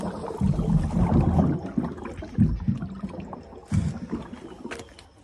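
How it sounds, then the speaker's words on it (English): Water bubbles and gurgles through a pipe just after a valve is opened on a roof water holding tank at a tiny house cabin, with uneven bursts of sloshing that come and go at close range. "do you hear bubbling?"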